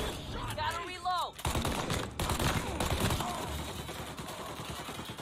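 Gunfire in Mafia: Definitive Edition, sustained dense shooting in fast rattling volleys, loud and close throughout, with a voice briefly heard over the shots.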